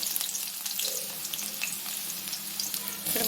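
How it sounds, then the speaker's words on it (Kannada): Onions frying in hot oil for egg masala, a dense steady sizzle close by with light crackle and a brief louder burst at the end, no voices. "ಎಣ್ಣೆ ಕಾದ್ಮೇಲೆ ಈರುಳ್ಳಿ ಹಾಕ್ತಾಯಿದ್ದೀನಿ"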